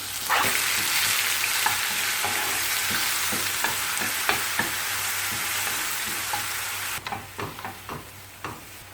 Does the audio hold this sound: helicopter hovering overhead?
no